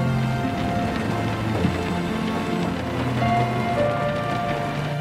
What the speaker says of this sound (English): The sound of rain hitting the window of a car.